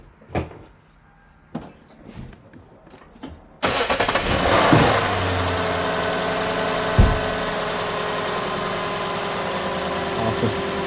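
A Lexus LS460 engine cranks and starts after a belt tensioner replacement, then settles into a steady idle. A few door or tool clunks come before the start.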